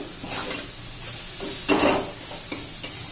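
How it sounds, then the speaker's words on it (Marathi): Green chillies sautéing in hot oil for a bottle gourd dish, a close hissing sizzle with a few spatula scrapes and clinks against the pan. "भाजली नव्हती मिरची आता तेलात चांगली परतून घ्यायची ती"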